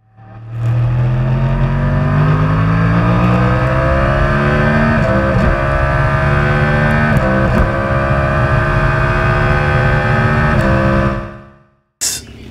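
A Yamaha YZF-R1 race engine revs loudly and up close. Its pitch climbs steadily across several seconds with a few small stutters, then it cuts off sharply near the end.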